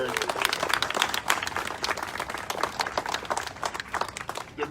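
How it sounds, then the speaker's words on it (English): Audience applause in a hall, a burst of crowd clapping rising and falling in waves, with speech mixed in. "Let's give her a round of applause, a true profile in courage."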